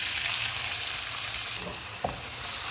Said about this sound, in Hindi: ऑयल गर्म हो गया, इसमें प्याज डाल देंगे।